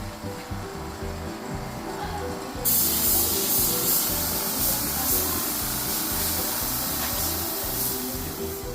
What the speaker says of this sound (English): you're just spraying clear sealer